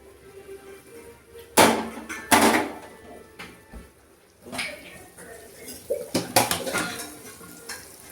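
Raw banana masala gets stirred in an oiled pan, with loud metallic scrapes and clanks of a spoon against the pan in short bursts between quieter stretches.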